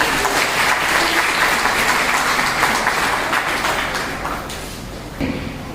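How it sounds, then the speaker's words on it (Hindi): A large audience at a social gathering on Babasaheb Ambedkar's resolution day claps loudly and steadily, a dense sustained applause that fades slightly toward the end. "तो आप सभी एक बार जोरदार तालियां अपने लिए बजा सकते हैं।"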